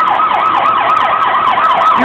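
A fire truck siren wails loud and close at a burning Puregold store, its rising and falling pitch sweeping in a steady repeating cycle with no voices over it.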